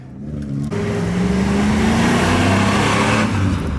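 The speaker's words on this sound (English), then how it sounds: "I do hear more donuts going on back here. It's definitely some sort of V6 as well" A V6 car engine roars steadily close by at a car meet, revving and holding high as it does donuts, with a rising and falling growl throughout.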